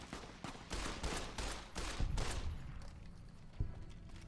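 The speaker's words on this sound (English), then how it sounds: "This guy's shooting at us." Gunfire from the video game Fallout: New Vegas, a rapid volley of several close, loud shots in quick succession, then one sharper shot near the end, with no talk over it.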